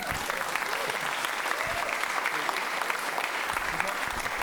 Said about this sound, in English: Say a few words and take your applause.